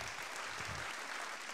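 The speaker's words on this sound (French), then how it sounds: "Merci Yann, merci, on peut vous applaudir." Audience applause at a French business plenary evening with round tables on collaborative and competitive enterprise, a steady dense clapping wash filling the short stretch, fairly distant and even.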